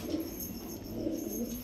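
Pigeons coo softly in a short burst, low rounded murmuring calls overlapping at moderate distance, with faint high background hiss and no voices.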